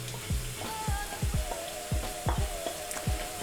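Onions sizzling and frying in hot oil in a pan for an African peanut stew, a steady crackle punctuated by sharp bursts of spitting and stirring, close and alone without talk.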